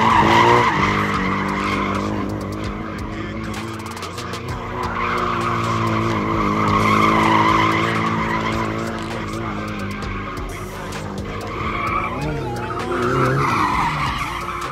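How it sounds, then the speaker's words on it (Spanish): Drift car tires skidding on a race track, long loud squeals rising and falling over engine noise, sustained across the whole stretch without talk. "ahora vamos a cambiar otra vez las llantas traseras y nos metemos a pista nomás"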